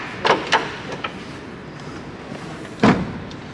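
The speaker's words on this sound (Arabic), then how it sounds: "عموما هذا باب الصندوق" Tailgate on a 2022 GMC Sierra SLE pickup worked by hand outdoors, giving a pair of quick clunks, a softer knock, then one louder latching thud near the end, with no talk.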